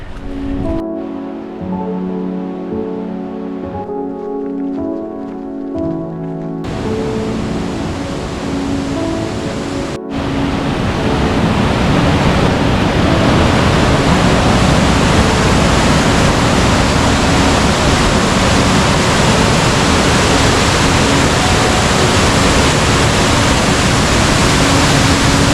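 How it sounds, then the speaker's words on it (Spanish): Water bursts from the Artezuela spring in a forest near Málaga, a broad, steady roar of gushing flow that swells sharply partway through and stays loud and continuous to the end. "Vaya explosión de agua."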